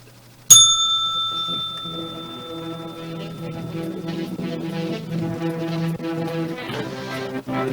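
A trading session bell rings once with a sharp metallic strike, its bright tone fading over a couple of seconds as a sustained musical tone carries on underneath.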